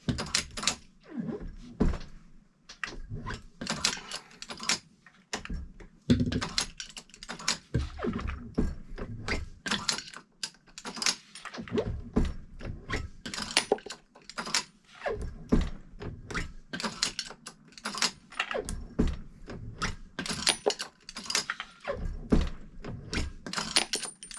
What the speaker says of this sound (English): I'm going to go ahead and run it through my sizing dies.